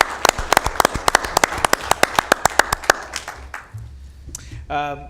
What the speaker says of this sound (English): So if we can give him a big round of applause